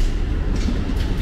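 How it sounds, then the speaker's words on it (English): Train passing through a Buenos Aires neighbourhood: a loud, close, continuous rumble and rattle of rail cars filling the whole moment, with no voices. "there's a train. Train coming through pretty loud"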